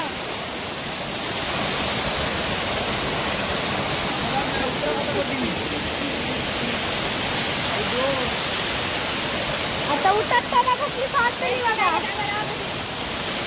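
Waterfall at Mangaon in Sindhudurg, Konkan: a steady, loud broadband rush of falling water fills the whole stretch, with voices talking over it toward the end.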